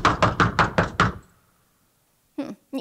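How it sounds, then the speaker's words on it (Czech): Six quick, loud knocks on a door in a rapid even rhythm, then a pause of silence before two more short thumps follow. "Tak já zabouchám na dveře."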